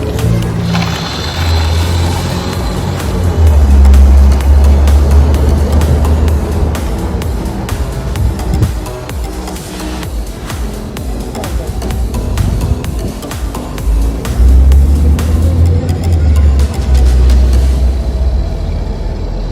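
A Hot Wheels RC toy car drives outside at a home, its small electric motor whirring loudly and continuously, swelling in two stronger bursts as it runs, with no speech.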